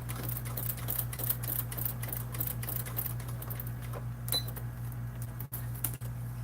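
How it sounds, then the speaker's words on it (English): Home sewing machine stitches across a fabric bag near the handle connector, a steady fast mechanical whir with a low hum and rapid needle ticks, fairly quiet and close. "needle down, lift presser foot, turn it, and sew it across"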